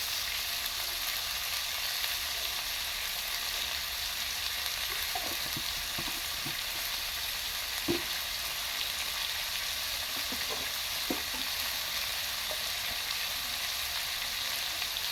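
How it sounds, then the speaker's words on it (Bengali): Constant crackling sizzle of potatoes frying in a pan, with occasional faint clinks and scrapes of stirring scattered through it. "একটু আলুটাকে ভাজা ভাজা করে নিয়েছি"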